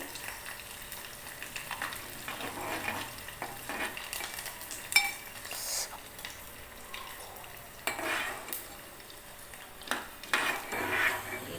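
Curry leaves, cumin, mustard seeds and toor dal fry in oil in a pan for a Telugu ponnaganti greens dish, giving a steady low sizzle with occasional crackles and spoon-on-pan scrapes, no voices.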